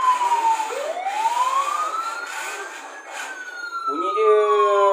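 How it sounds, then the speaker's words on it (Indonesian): A Huina 1561 toy truck sounding its siren: a loud, close electronic wail sweeping up and down, shifting into a higher warbling tone near the end, with no engine sound. "So kalau kita nak bunyi siren, bunyi enjin tak ada."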